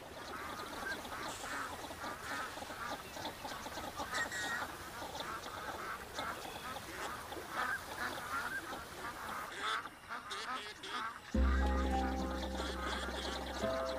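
Thousands of ducks quack and chatter together across open water in a dense, continuous chorus of overlapping calls, with a low hum cutting in near the end.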